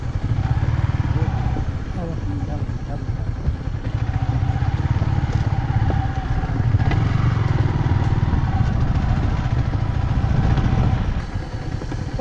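A motorcycle engine runs steadily on a rough off-road track near a waterfall outside Guwahati, a close, rumbling, slightly clattering drone that lasts throughout while people talk over it.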